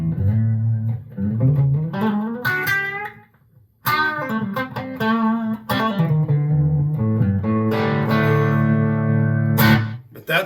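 Electric guitar played through a compact guitar amp simulator pedal set to an American amp voicing, Fender Twin style, with a melodic riff of sustained chords and single notes, steady and upfront, with a short pause around four seconds.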